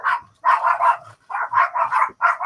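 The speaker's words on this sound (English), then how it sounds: "I have no clue what they're barking at." Dogs bark in quick bursts of three or four sharp, mid-pitched yaps with short pauses between, loud and close, with no talk over them.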